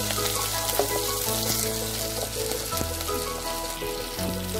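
Chopped carrot and potato frying in oil in a pan, with a steady close sizzle and crackle running the whole time and a few soft stirring clinks on top.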